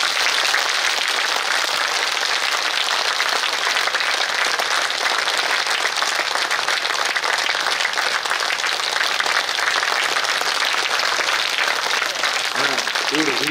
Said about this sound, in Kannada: ಆ ಭಾವಕ್ಕೆ ಒಂದ್ಸರಿ ಪ್ರೇಮದಿಂದ ಜೋರು ಚಪ್ಪಾಳೆ ತಟ್ರಿ.